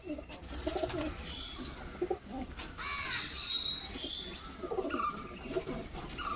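Pigeons coo steadily in a loft, a mix of soft, rolling calls from several birds at close range, with a few sharper bird calls rising over them and no clear talk.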